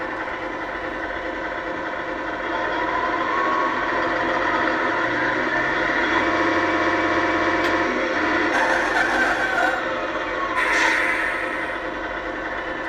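A simulated engine from a GT Power sound kit idles on an RC truck, producing a steady, loud synthetic rumble with a few faint clicks and rattles over it.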